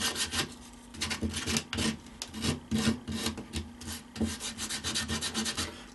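Coarse 80 grit sandpaper is rubbed by hand over a dry tree root down to the hardwood, giving rhythmic rasping back-and-forth strokes, close and fairly loud, with no voices.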